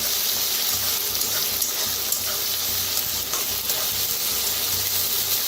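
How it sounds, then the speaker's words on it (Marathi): Onion, curry leaves, green chilli and garlic sizzle steadily in a hot pan, a continuous loud frying hiss with faint stirring scrapes and no talking. "छान असं भाजून घेऊया कांदा आणि कढीपत्ता, मिरची,"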